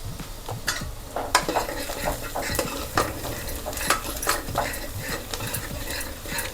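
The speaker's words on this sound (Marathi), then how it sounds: "कांदा लाल झालेला आहे, हळद टाकून घेऊया" Onions sizzling and frying in a pan with turmeric for a spicy Marathi mutton curry, with steady crackle and repeated clinks and scrapes of a spoon stirring against the pot, close up and with no voices.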